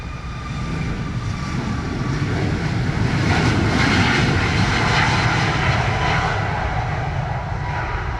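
A Southwest airliner taking off from Montego Bay, a loud, broad jet engine roar that builds over the first seconds and then holds steady and close throughout.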